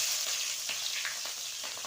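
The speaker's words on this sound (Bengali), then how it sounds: "এবার আমি পেঁয়াজটা দিয়ে দেবো।" Onion hitting hot oil with bay leaf and cumin while cooking chicken, giving a steady broadband sizzle with a few light stirring clicks, close and fairly quiet, no voices.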